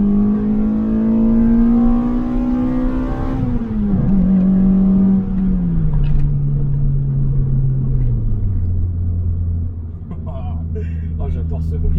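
A Toyota AE92 Corolla fitted with a swapped 2ZZ-GE engine holds a loud, steady high rev, then the pitch drops in steps as the engine winds down to a lower drone, close by with some rumble and clicks near the end.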